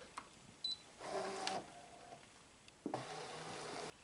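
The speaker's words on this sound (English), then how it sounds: "Put material to scan on the mat and set it in the machine and press the start key to scan." A Kimberbell embroidery machine scans a mat holding material, giving two separate mechanical whirring runs of about half a second and a full second with a short pause between them, and a few small clicks come before them.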